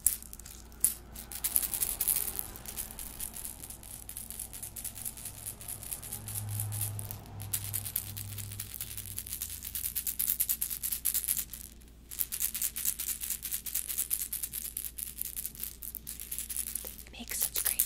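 A squishy toy ball squeezed again and again close to the microphone gives crinkly, crunchy, rattling squelches in an uneven rhythm, with soft talk now and then between squeezes.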